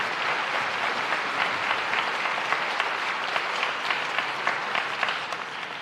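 Audience applause at a high school senior awards evening, a sustained even wash of clapping from a seated crowd, moderately loud and continuous with no talk over it.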